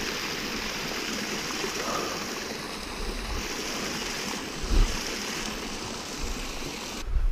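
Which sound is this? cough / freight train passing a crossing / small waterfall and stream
small waterfall and stream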